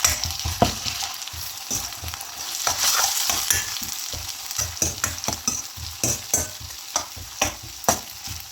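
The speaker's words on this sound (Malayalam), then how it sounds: "ഒന്ന് വഴറ്റി കൊടുക്കാം." Ginger garlic paste sautés in a hot oiled pan, a steady sizzle broken by a run of sharp, rhythmic spatula scrapes and taps, close and clear with no talking.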